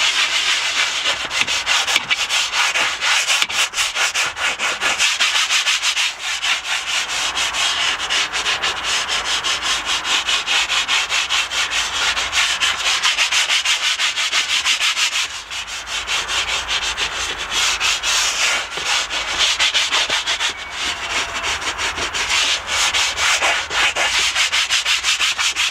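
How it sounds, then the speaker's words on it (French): A leather brush scrubs car leather upholstery in steady, close, rhythmic back-and-forth strokes, a continuous raspy rubbing that goes on without pause and without any talking. "Quand vous avez une brosse à cuir, ça n'endommagera pas."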